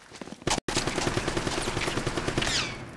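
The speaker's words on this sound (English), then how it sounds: "Why wouldn't there be more guys shooting at me? And it's a fucking machine gun as well." Rapid machine gun fire in the Uncharted: Drake's Fortune video game rattles continuously and loudly, with a brief sharp cut near the start and dense repeated shots throughout.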